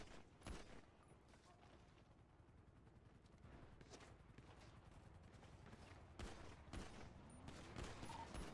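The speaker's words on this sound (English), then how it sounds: "They're shooting." Gunfire in GTA 5 during a NoPixel roleplay fight around a parkade: scattered sharp shots crack at a distance, several separate bursts over low background noise.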